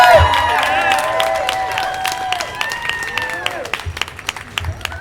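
An audience claps and cheers at a live spoken-word event, a loud burst of applause with whoops and voices that thins out into scattered claps.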